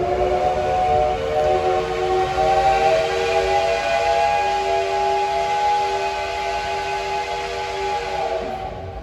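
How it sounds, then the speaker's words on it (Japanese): The SL Yamaguchi steam locomotive sounds a long, sustained whistle at departure from the station, a loud, steady multi-tone blast holding for several seconds without pause. "手笛の後、汽笛の音が鳴り響く最高の瞬間でした"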